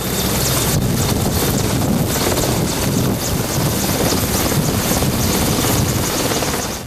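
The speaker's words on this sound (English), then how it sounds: "all-weather RAF Merlin helicopters" An all-weather RAF Merlin helicopter flies near a ship, its rotor and engine roar forming a steady, loud wash of noise mixed with wind buffeting, with no voices.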